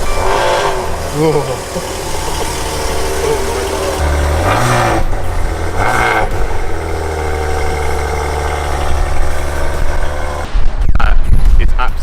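The 3-litre diesel engine of a Maserati Ghibli starts and settles into a deep, loud, rumbling idle, with a brief louder surge near the end while people talk and exclaim over it.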